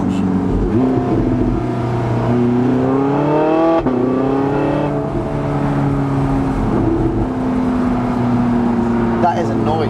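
Porsche Carrera GT engine revving hard, a loud close howl rising and falling in pitch through several rev sweeps, with a voice talking over it.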